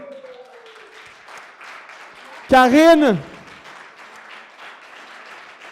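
Audience applause at a talk on goal setting, a soft continuous patter of clapping running throughout, briefly overlaid by a loud spoken call before the clapping carries on at the same faint level.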